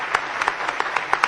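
Audience applause for Congressman Ron Paul at a Right to Life Foundation event, a steady mass of clapping from a crowd with sharper individual claps popping out, continuous and moderately loud throughout.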